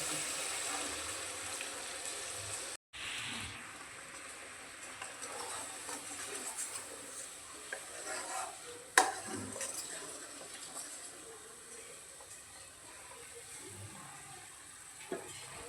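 Spinach paste and rinse water from the mixer pour into masala frying in oil for palak paneer, giving a steady soft sizzle and bubbling with an occasional clink of a utensil against the pan.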